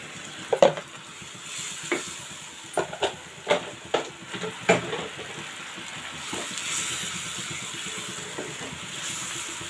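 Katla fish masala with coriander powder stirred in a hot pan, a few sharp spoon scrapes and knocks over a steady low sizzle, louder early then settling into soft continuous frying.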